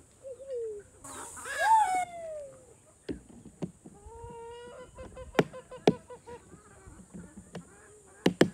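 Backyard chickens cluck and squawk during morning feeding, with rising calls, short clucks and sharp pecking taps close by in a quiet yard, plus a brief voice.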